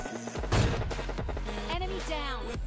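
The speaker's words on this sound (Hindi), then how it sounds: "तो मैं उसको फायर करने की कोशिश करता हूँ" Sniper fire from an AWM rifle in a shooter video game, a sharp report near the start followed by game sounds and background music, no talk over it.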